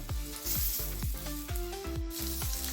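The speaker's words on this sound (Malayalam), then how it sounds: "തിരിച്ചിട്ടും അതുപോലെ ഒന്ന് റോസ്റ്റ് ചെയ്തെടുക്കാം" Eggs seasoned with pepper and salt roast in a hot pan for a Kerala-style egg side dish, giving a steady close sizzle with repeated tonal swoops and background music throughout.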